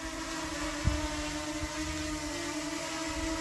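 A DJI Mini 4K drone's motors whir steadily as it spins on its axis, a sustained buzzing hum with a steady tonal drone and a brief bump partway through, no talking.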